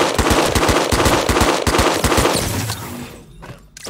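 Rapid automatic assault rifle fire from a Fortnite match, loud bursts of repeated shots for about two and a half seconds, then trailing off into quieter game ambience.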